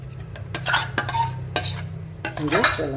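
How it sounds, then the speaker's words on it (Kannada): Ground leftover-rice idli batter poured into a vessel in a home kitchen, with soft wet scraping and clinks of a spoon against the metal pot, a few short bursts close by, no talking. "ಈಗ ಇದನ್ನು ಒಂದು ಪಾತ್ರೆಗೆ ಸುರ್ಕೊಂಬಿಡೋಣ"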